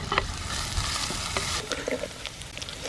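Sliced onions with salt sautéing in a pan, a steady close sizzle with repeated scraping and clinking of a spoon stirring against the metal.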